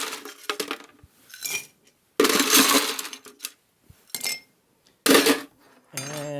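Ice cubes clatter and clink into a glass cocktail mixing glass while a Kentucky Colonel cocktail is built with 1792 bourbon, in several loud bursts separated by short pauses.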